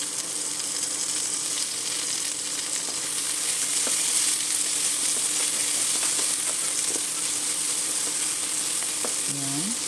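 Onion and garlic sautéing in hot yellow oil for pork menudo give a steady, dense frying sizzle that runs unbroken the whole time, with faint clinks of stirring and no talk.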